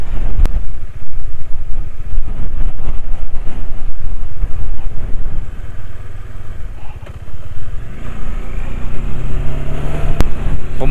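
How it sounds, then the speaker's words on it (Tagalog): Strong gusting mountain wind batters the camera microphone during a motorcycle ride on a mountain road, a loud continuous roar and buffeting over the engine, with a couple of sharp knocks. "Ang lakas na ng hangin. Lakas ng hangin."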